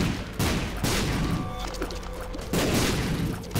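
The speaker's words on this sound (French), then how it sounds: "Ça, toutes les explosions." Video game battle with a near, continuous barrage of explosions and gunfire, booming bursts and rattling shots overlapping throughout with no pause.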